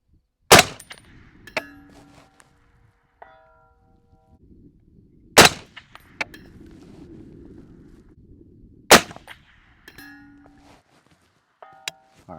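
Three sharp, loud rifle shots ring out several seconds apart, each fired through a Texas Flood suppressor fitted with a solid end cap, each followed by a short metallic ringing and a faint echoing tail.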